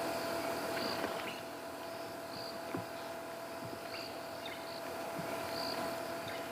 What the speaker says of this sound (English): in this case, they're not just crickets. There's also cicadas calling as well.